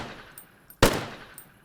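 Gunfire in the zombie shooter Zompiercer: a single sharp, loud shot stands out, with fainter clicks and small bursts around it.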